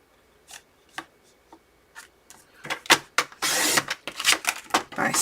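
Scissors cut through two stacked sheets of paper, first as sparse single snips at a steady pace, then as quicker, louder, overlapping crunching cuts near the microphone.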